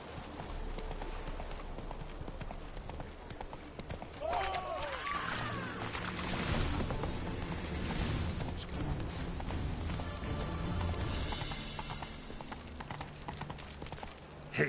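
Hooves clip-clop in a fast, steady galloping rhythm as a horse runs in a PS4 video game, moderately loud and continuous, with brief voice sounds mixed in.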